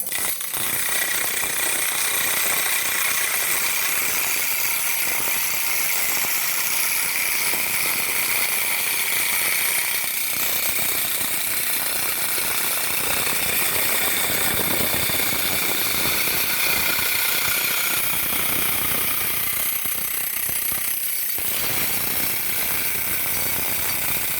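A piece of timber is cut one-handed with a power tool, a loud, steady, rattling motor roar that runs continuously and dips briefly twice, close to the listener with no talking.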